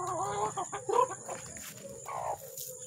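A brooding hen clucks in low, repeated murmurs, with a few brief rising calls, close by, against a faint steady hiss and light background noise.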